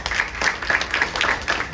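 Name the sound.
audience applause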